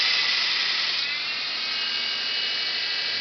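A 48-inch belt grinder runs at mid-speed, giving a steady, loud abrasive whine and hiss that holds constant throughout without pauses.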